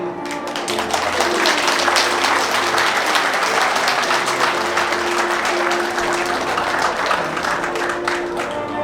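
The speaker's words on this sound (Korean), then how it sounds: "따뜻한 격려의 박수 부탁드리도록 하겠습니다" Wedding guests applaud the bride and groom at the close of a ceremony, steady dense clapping filling the room for several seconds, with a sustained tone held underneath throughout.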